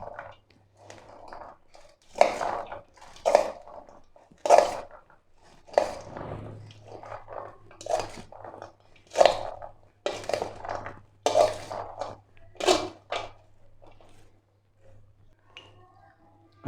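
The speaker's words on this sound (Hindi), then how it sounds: "अब मैं इन सबको अच्छी तरह मिक्स करूँगा।" Chana chaat ingredients being stirred together in a bowl, with repeated clinks and scrapes of a spoon against the dish in an irregular rhythm, close and fairly clear, over a faint steady low hum.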